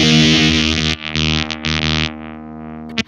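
Sputtering, gated electric guitar tone through a Whimsy Machines Short Stack fuzz pedal with its circuit starved of power, a loud buzzy sustained chord that cuts out in choppy bursts and drops away near the end.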